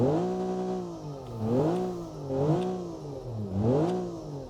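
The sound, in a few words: car engine revving, from a car design video game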